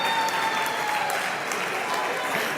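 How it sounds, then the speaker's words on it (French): An audience at a talent show final applauds steadily, a dense, even wash of many hands clapping with no speech over it. "Est-ce qu'on peut applaudir pour aider l'ambassadrice Rosny à se rasseoir, s'il vous plaît?"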